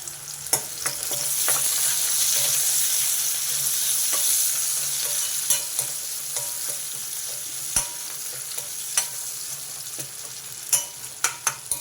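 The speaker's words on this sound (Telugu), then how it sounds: "ఈ ఉల్లిపాయలు కొంచెం ఎర్రగా వేగాలి" Onions frying in a pan with salt for a masala capsicum curry: a steady, bright sizzle runs throughout, broken by frequent sharp ladle scrapes and taps, close up and without talk.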